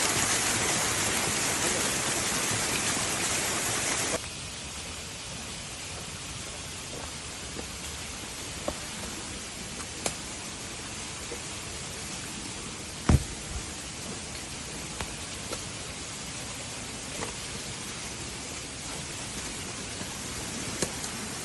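Heavy rain falls in the hills of Wayanad as a steady, dense hiss. It is loudest in the first few seconds, then settles into a softer continuous downpour with scattered sharp drips and knocks nearby.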